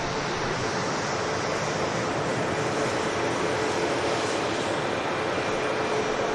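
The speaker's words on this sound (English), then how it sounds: "Aer Lingus Airbus A330, 300 series on the roll." Aer Lingus Airbus A330-300 rolling down the runway at Manchester Airport, a steady, distant broadband roar of jet engines mixed with wind, constant in level throughout with no talk.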